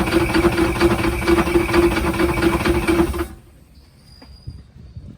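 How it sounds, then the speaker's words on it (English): A loud, steady mechanical clatter of an engine knocking from a spun rod bearing, with rapid rhythmic ticking, cutting off abruptly to near silence partway through. "I just want to show you guys what a spun pushing rod bearing sounds like"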